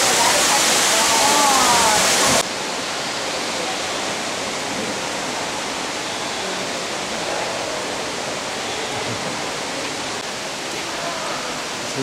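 Waterfall in an indoor cloud forest garden in Singapore, heard as a loud, dense, steady roar of falling water filling the whole clip, with a brief voice near the start.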